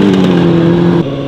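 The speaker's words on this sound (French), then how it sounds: "donc là il monte fort le ralenti" A stunt motorcycle engine holds a high, buzzing idle that cuts down abruptly near the end, loud and close with no talking.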